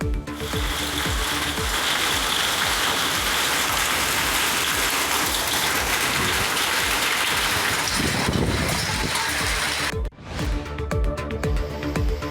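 Sudden rain and hail fall in Tiruppur in a loud, steady hiss of drops beating on surfaces, close and continuous, with a brief break near the end before the downpour resumes.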